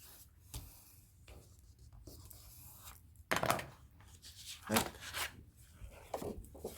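Glue is wiped off a scrapbook photo album page in short rubbing strokes, soft at first and then two louder swipes, with quiet pauses between them.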